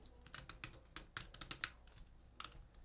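Yunteng selfie stick tripod head rotated through its stops, giving a series of faint, quick plastic clicks at an irregular pace, close by and quiet.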